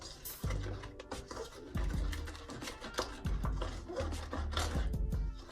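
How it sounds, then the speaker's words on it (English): A utensil scrapes the bottom of a pan while Cajun blackened salmon and shrimp pasta is cooked, giving repeated rasping, scratchy strokes that stay close and fairly steady throughout, with no talking. "I'm just scraping the bottom of the pan"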